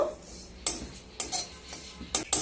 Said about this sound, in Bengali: তিলটাকে শুকনো খোলায় ভেজে নিয়ে ঠান্ডা করে পেস্ট করে নেব